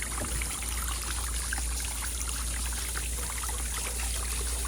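Water spouts steadily from the bilge outlet of a Sea-Doo personal watercraft, a continuous splashing, trickling stream heard up close over a low engine or pump hum, with no talking.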